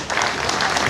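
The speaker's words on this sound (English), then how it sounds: "let's have a big round of applause for the two fighters" A crowd at the Omar Salah vs Bahi Zaky fight applauds the two fighters, a brief, dense wash of clapping at full strength.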